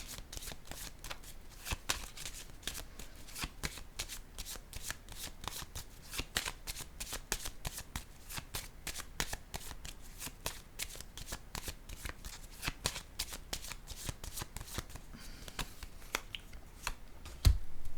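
Tarot cards are shuffled and laid out for a reading, with a long run of close, crisp riffling and snapping card strokes in an irregular rhythm and no talking.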